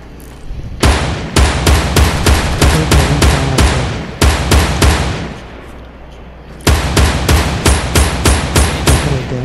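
Rapid bursts of gunfire from the Fortnite video game as a player shoots at the cube, loud and close, in two long volleys of sharp repeated shots separated by a brief pause.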